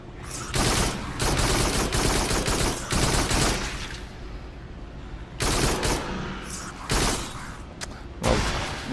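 Rapid bursts of automatic gunfire from the VR shooter Farpoint blast in long loud volleys, pausing briefly between streams of shots, close and dominant with no talk over them.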